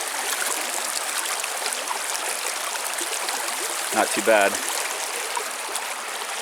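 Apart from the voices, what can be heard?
stream flowing at a trail campsite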